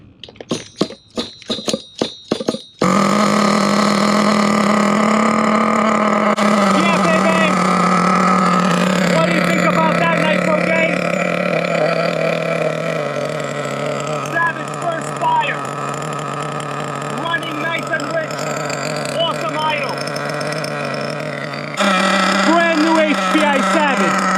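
A 2021 HPI Savage X4.6 nitro RC truck engine on its first start, a loud, continuous high-pitched buzzing drone with shifting revs, preceded by a few sharp pull-start rasps, with talking over the engine.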